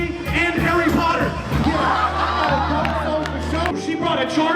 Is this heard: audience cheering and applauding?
yes